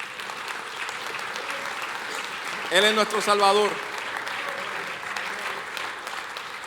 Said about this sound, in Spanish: No sé si alguien le puede dar un aplauso a Jesús por eso